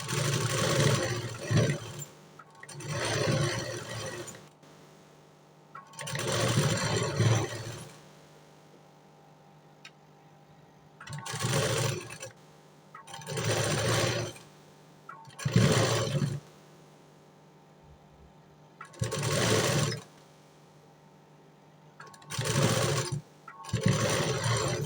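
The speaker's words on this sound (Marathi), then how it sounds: "आता दुसऱ्या साईडून पण मी शिलाई मारते." A sewing machine stitches the second side of a blouse in repeated bursts of whirring, about eight runs of a second or two each separated by short quiet pauses, close and loud with no speech.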